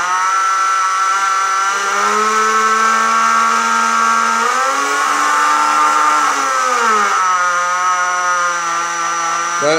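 A small electric motor in a Dunkerque model ship whines steadily and loudly up close, its pitch dipping and rising as the speed changes, with no voices.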